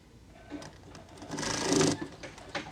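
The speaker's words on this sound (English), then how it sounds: "So now we're back at the machine, and I'm just going to go ahead and do a 1/2 inch seam allowance" A sewing machine runs a half-inch seam on a full skirt while a dress is remade into a jumpsuit, giving a short, fairly quiet whir that swells and fades over a few seconds without speech.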